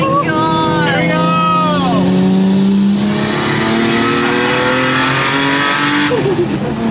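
A car accelerating hard in third gear: a loud, continuous engine note climbing steadily in pitch for the whole stretch, close up, with a short exclamation underneath.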